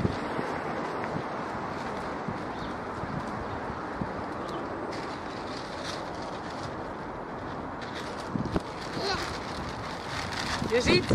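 Gusty wind buffets a microphone outdoors in a steady, faint rush, with occasional bumps and rustles and a few brief sounds that may be birds in the background.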